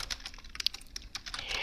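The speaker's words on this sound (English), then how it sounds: "Sorry for my typing." Rapid, uneven clicking of keys on a computer keyboard during programming, close and fairly loud, with irregular bursts of keystrokes and no voice.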